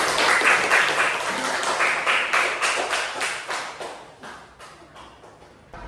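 Children in a classroom clap together in a burst of rhythmic hand claps, loud at first and then fading out over several seconds.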